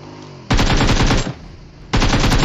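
Two loud, close bursts of rapid automatic gunfire come from a PUBG Mobile match on Rozhok, the second starting after a short pause.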